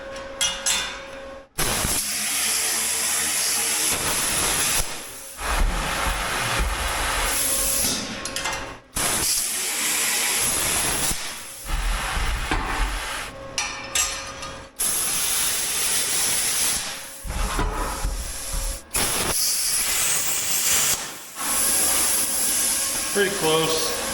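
Harsh hissing bursts from a plasma cutter slicing through a Jeep exhaust pipe, several long sputtering cuts separated by short pauses, loud and close.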